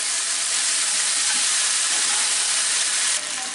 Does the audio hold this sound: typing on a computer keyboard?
no